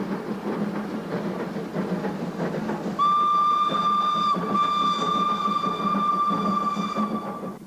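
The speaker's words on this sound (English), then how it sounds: "the train pauses and passes a late-running service train" Pakistan Railways steam locomotive paused in a loop as a late-running service train passes, a steady rumble of rolling wagons with a loud, sustained whistle or horn sounding from about three seconds on, close and alone.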